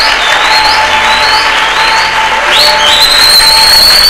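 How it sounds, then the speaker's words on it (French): A large audience applauds and cheers loudly and continuously, with shrill whistles rising above the sustained clapping. "ça mérite que nous puissions acclamer pour lui"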